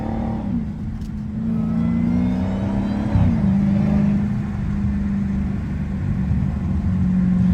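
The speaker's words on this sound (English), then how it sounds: "Let's see how the downshift sound." Dodge Hellcat engine droning steadily under load with a pitch drop partway through as it downshifts, heard from inside the car, loud and continuous without talk.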